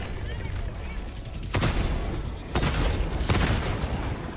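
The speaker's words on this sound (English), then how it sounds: "Firing orbital strike." Orbital strike explosions in Helldivers 2 hit as three heavy broadband blasts in quick succession, each a sharp boom with a rumbling tail, rising over a background of battle noise.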